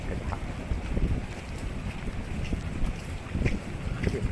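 Strong wind blows outdoors along a street beside shops, a steady roaring buffet against the microphone with gusty surges throughout and no clear voices.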